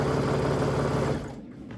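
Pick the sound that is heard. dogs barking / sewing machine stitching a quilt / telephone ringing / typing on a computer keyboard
sewing machine stitching a quilt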